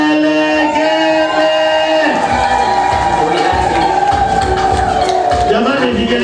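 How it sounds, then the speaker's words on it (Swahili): Wedding guests at a church ceremony ululate together in loud, wavering high-pitched trills, mixed with crowd cheering and voices throughout. "Vigelegele."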